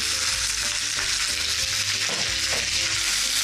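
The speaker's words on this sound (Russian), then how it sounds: "И старайтесь равномерно обжарить их. Их, то есть ножки куриные, да?" Chicken legs fry in hot olive oil in a deep pot, a dense, continuous close-up sizzle with occasional stirring scrapes and no voices.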